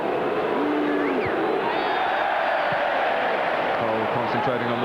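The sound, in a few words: Arsenal fans applauding in the stadium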